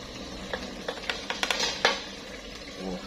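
Fish stir-fried with coconut cream, lemongrass, fingerroot, kaffir lime leaves, shallots and garlic in a pan, close soft sizzling under repeated scraping and clinking utensil strokes, no talk.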